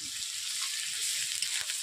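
Onions with ginger-garlic paste frying in a pan give a continuous bright sizzle, with soft scraping and stirring knocks underneath, close and moderately quiet, with no talking.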